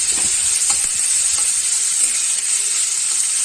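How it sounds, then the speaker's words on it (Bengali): Onions sizzle loudly in a hot pan, a dense, steady crackle with a few stirring scrapes near the start and no talking. "এবার পেঁয়াজটা ভালো করে লাল করে ভেজে নিতে হবে।"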